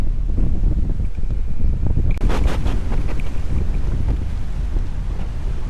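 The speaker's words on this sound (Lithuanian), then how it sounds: "Jūra čia varo kaip turi būt." Sea surf rolling onto the Bulgarian coast, a steady broadband wash of waves mixed with strong wind buffeting the microphone, loud and continuous with a brief swell of spray noise midway.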